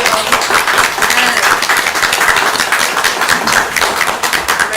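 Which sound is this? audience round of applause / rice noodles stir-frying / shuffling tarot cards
audience round of applause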